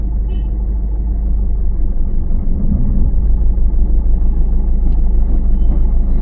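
A car with its engine running moves forward during a driving lesson, a steady low rumble that grows slightly louder as it pulls away, with no one speaking.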